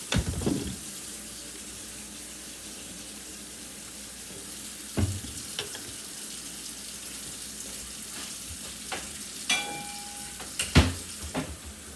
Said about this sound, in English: I'll add a little bit of water first.